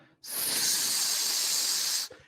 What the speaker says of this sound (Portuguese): A panela de pressão está assim, ó.